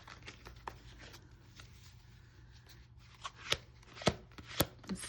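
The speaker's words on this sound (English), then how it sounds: "I'm gonna shuffle a little bit more before I start." Two tarot card decks shuffled together, giving soft, irregular riffling and rubbing of card stock, with a few sharper snaps and taps toward the end; close and fairly quiet, with no talking.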